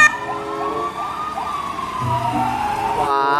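A small electronic toy ambulance siren wails continuously, loud and close, its pitch sliding up and down with a tinny, toy-like tone.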